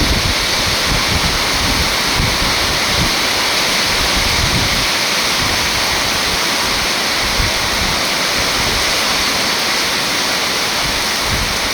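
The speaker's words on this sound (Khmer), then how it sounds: "ឥឡូវដល់ភ្លៀងតាមចោលខ្លាំងណាស់បងប្អូន" Heavy rain pours down with strong wind, a loud, dense, unbroken roar that stays close and steady throughout.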